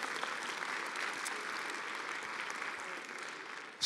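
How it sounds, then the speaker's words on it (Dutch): A symposium audience at Tilburg University applauding steadily, dense continuous clapping that holds an even level before a sudden louder bump at the very end. "Jullie krijgen een hartelijk applaus"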